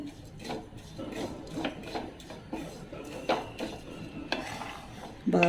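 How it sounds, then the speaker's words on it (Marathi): Dried date powder being dry roasted in a pan, stirred with a spatula: soft repeated scraping and light clinks against the metal, a faint dry crackle underneath, no voices. "इथे मी खारीक पावडर कोरडीच भाजून घेणार आहे"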